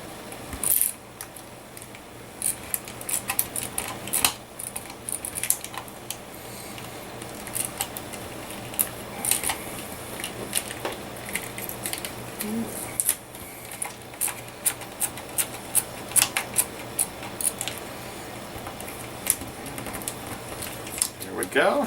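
A tape runner presses tape onto a scrapbook photo mat in quick, sharp clicks and ticks scattered across the stretch, close and fairly quiet, with someone speaking in between.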